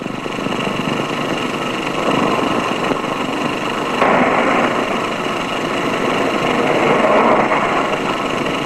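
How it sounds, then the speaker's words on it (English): A Holden LH Torana 1900 engine drones steadily under load while driving uphill, loud and continuous, with slight rises in pitch as it pulls. "Up the steepest hills, the engine pulls well"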